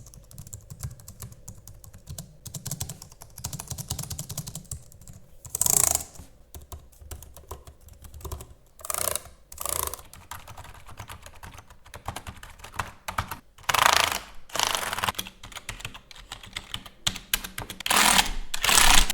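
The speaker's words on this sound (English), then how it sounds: "The sound, it's very important. How does it sound comparing to other keyboards?" Keys clatter on a Logitech MX Keys keyboard in irregular bursts of typing, with short pauses between runs and louder clusters of key presses, close and clear with no voices.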